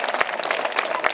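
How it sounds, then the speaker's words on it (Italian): Audience applause following a dance recital of a Gladiator-themed performance, a dense wash of many hands clapping with a few sharper claps standing out, steady and fairly loud throughout. "Un applauso ancora a tutti loro"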